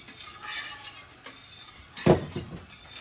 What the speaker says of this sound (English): we'll stir and stir forever, and then we'll test it